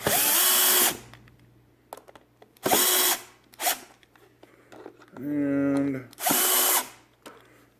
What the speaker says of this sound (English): you're going to take your drill and kind of drill them back down in.